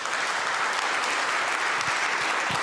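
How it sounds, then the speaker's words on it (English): An audience at a freestyle chess event in Las Vegas applauds, a dense, steady wash of clapping that runs from start to finish with no break. "Maybe the audience can give an applause to what he has done with his team here."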